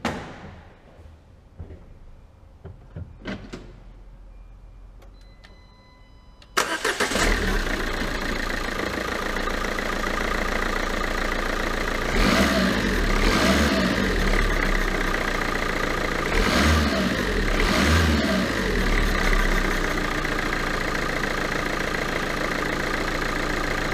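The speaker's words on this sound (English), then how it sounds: "So I go to start the engine." A 2013 Renault Megane 1.5 dCi diesel engine, fresh from a timing belt and water pump replacement, is started after a few clicks and clunks, then settles into a loud, steady diesel idle with a few brief revs.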